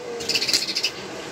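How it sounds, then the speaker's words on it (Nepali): A small bird gives a quick burst of high, bright chirps in a close, rapid series lasting under a second, then falls quiet over faint background hiss. "चरा"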